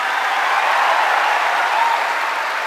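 A large stadium audience applauds at a success-day event in Delhi, a dense, steady wash of clapping from many hands that holds at an even loudness from start to finish.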